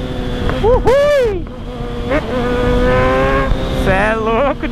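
A Kawasaki Z1000 motorcycle revs hard and accelerates up close, its engine whine climbing in rising sweeps through several gear changes, loud and continuous.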